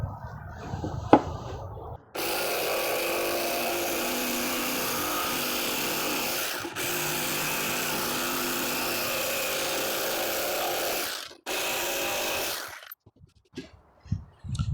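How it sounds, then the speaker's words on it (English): A jigsaw cuts a curved arc through a wooden board in a workshop, a loud, continuous buzzing rasp lasting about ten seconds with one brief dip, stopping abruptly before a few light clatters. "I now have my arc and I can cut it out with my jigsaw."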